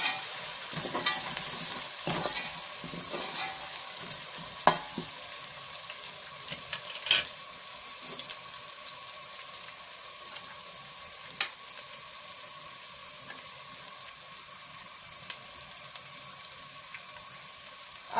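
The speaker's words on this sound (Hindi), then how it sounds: "अब लहसुन को थोड़ी देर भून लेंगे।" Garlic paste frying in a pan with browned onions while making black pepper meat curry, a steady soft sizzle with occasional stirring scrapes and clinks, close and alone.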